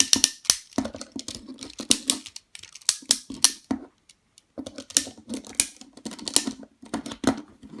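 A plastic Transformers G1 Abominus toy gets folded and snapped into place in quick bursts of sharp clicks and clacks, close and crisp, with a brief pause midway and no talking.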